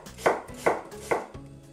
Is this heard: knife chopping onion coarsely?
yes